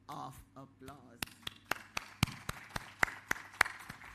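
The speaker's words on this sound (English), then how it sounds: "I invite you to give yourselves a round of applause" A small audience at an awards ceremony claps in sparse, separate hand claps that come at a steady rhythm after a brief burst of speech, close and fairly quiet.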